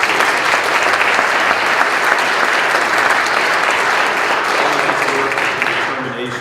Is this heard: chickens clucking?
no